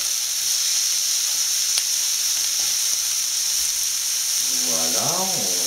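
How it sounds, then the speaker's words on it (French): Squid simmering in a pan over lowered heat, giving a steady, even sizzle and hiss throughout, with a voice speaking briefly near the end. "Voilà, on laisse mijoter, on baisse un tout petit peu le feu."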